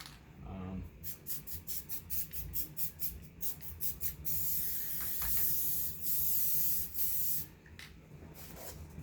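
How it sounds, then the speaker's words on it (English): A spray foam can hisses in a series of short rhythmic bursts, then releases one long continuous spray before a few more brief squirts, while making a foam round shield. "we're just gonna use the spray foam, right?"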